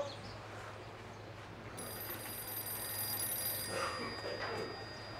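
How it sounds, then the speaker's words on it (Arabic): A telephone ringing faintly in a room, a thin electronic ring rising midway through a steady background hum and lasting a couple of seconds, no clear speech. "ما ترد على التليفون"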